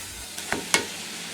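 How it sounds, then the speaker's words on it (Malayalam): Cooked jackfruit seeds and grated coconut being stir-fried in a pan, with three short scraping stirs over a low, steady background hiss, with no talk. "ഇതെല്ലാം കൂടി നമുക്ക് നന്നായിട്ടൊന്ന് മിക്സ് ചെയ്തെടുക്കാം"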